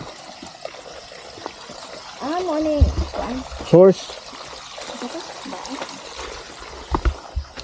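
Water trickles from a source along a mountain trail on Mt. Bilbogan in Davao Oriental, a faint steady dribble under the voices of hikers talking nearby.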